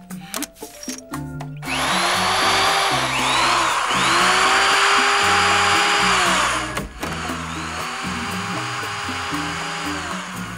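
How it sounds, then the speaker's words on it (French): An electric drill whirs loudly and steadily in several long bursts, its pitch rising as it spins up and settling between runs, with short clattering knocks at the start and no talking over it. "Perceuse."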